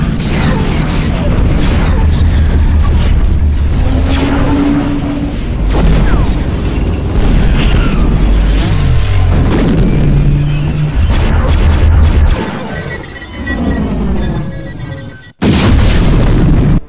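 A Star Wars Hailfire droid toy firing its missiles: loud, continuous mechanical whirring and booming bursts, with brief tonal sound effects, running for most of the stretch before a sudden cutoff and short final burst.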